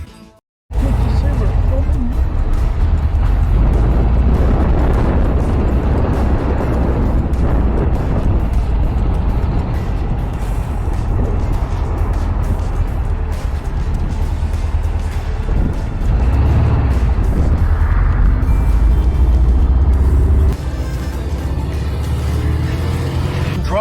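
An early classic Porsche is driven hard through its gears, and the engine roars loud and close inside the car, rising and dropping with each shift, with the note easing off near the end.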